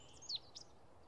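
Birds outdoors, heard as two faint, brief high chirps against quiet background hiss, with no talking.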